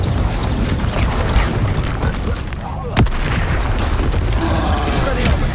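A Confringo blasting spell explodes in Hogwarts Legacy, a sharp boom cutting through loud, busy combat noise with rumbling impacts before and after, heard alongside a speaking voice.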